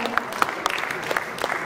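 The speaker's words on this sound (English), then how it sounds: "Another round of applause for Justice Scorpio." Short burst of applause from an audience at a general membership meeting, scattered claps over a brief span with a voice speaking over them.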